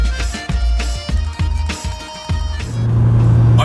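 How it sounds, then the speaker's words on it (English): A car engine runs loudly and close, with repeated surges and rises in pitch like shifting or revving, then settles into a steady drone near the end. "I'm sure you can hear the engine sound."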